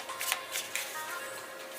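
Tarot cards being shuffled by hand, a soft continuous riffling rustle with a few brighter flicks, close and fairly quiet with no voice over it.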